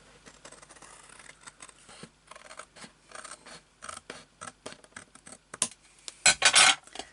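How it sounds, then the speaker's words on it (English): Scissors trim a tiny sliver of paper off a handmade A5 stamp storage piece, a quick run of close, crisp snips followed by a louder rustling burst near the end, with no talking. "let me trim that piece off first before I do that"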